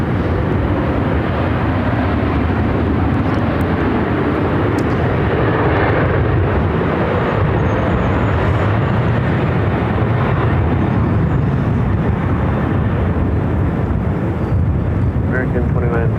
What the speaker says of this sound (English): we got that Delta A350, the second one here today. This one coming in from Detroit, Michigan, arriving there on the north side of runway 26.